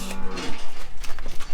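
Cows coming in on a farm moo loudly and close by, one drawn-out low call followed by a jumble of shorter bellows and shuffling.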